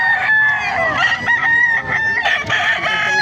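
Roosters crow over one another at a busy poultry market in Bocaue, Bulacan, several overlapping calls loud and close amid constant clucking and crowd noise.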